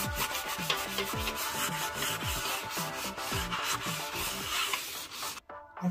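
A surface is polished by hand with a finer, less abrasive pad while restoring a blue finish: brisk, close rhythmic rubbing strokes that scrape back and forth continuously, ending in a brief pause.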